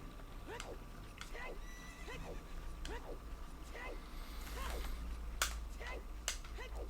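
A horse in a Zelda video game gallops with steady clip-clop hoofbeats and whinnies, under quiet game ambience, with sharp snapping clicks near the end and some talk in the background.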